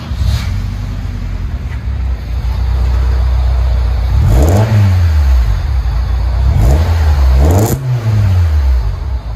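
A 1995 Honda Del Sol four-cylinder with a 1320 stainless steel muffler idles with a deep exhaust note, then revs hard twice in quick succession, the pitch sweeping up and falling back each time, loud and close.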